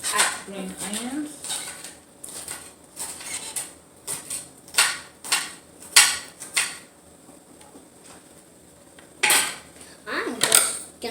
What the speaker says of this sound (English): Now I'm chopping up my green onions.